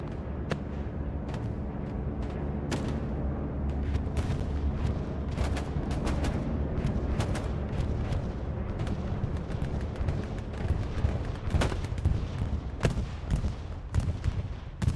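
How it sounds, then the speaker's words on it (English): Bombing-run explosions on the Hurtgen Forest map of the World War II game Hell Let Loose: a dense, continuous wall of booming blasts and crackling gunfire, loud and sustained with scattered sharper bangs on top. "unfortunate use of the bombing run there for Legion"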